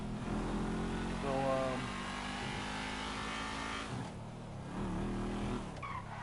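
Sports car engine from GTA V driving along steadily at close range, with a loud continuous drone that shifts briefly as the car slows or changes gear and then picks up again, plus light tyre noise.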